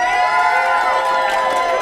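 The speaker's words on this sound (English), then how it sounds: "Round of applause." A studio crowd cheers and whoops loudly and steadily for about two seconds after being asked whether the Minnesota Vikings will make the playoffs, with voices blending into a sustained roar.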